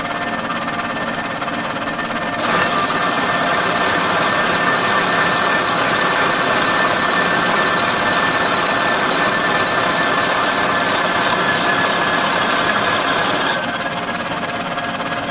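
An oiled drill bit cuts steadily through a welded flange on a vintage Sno Jet race snowmobile, giving a continuous, close grinding whir that rises in intensity after a few seconds.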